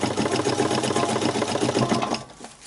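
A sewing machine stitching tent fabric, a rapid, even mechanical chatter heard up close and alone, stopping abruptly just before the end.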